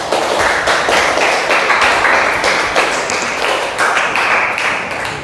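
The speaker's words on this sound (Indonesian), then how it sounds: "Ya, beri aplaus, bagus." Classroom applause from a group of students after a presentation, steady dense clapping at close range that fills the room for about five seconds without letting up.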